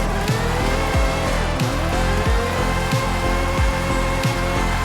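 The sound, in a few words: Aston Martin Valkyrie AMR Pro drifting in a video game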